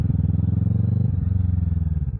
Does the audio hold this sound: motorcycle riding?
yes